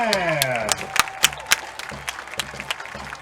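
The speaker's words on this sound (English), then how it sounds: "Let's give another round of applause for the show band from Tigerland." At a high school football game, a stadium crowd applauds a marching show band, with scattered claps and crowd noise under a fading announcer's voice and a few loud individual claps.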